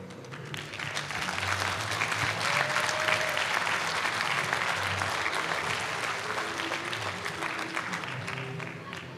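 An audience at a talk during Woodstock 2008 breaks into sustained, dense applause that swells and holds steady for several seconds, with voices talking faintly underneath.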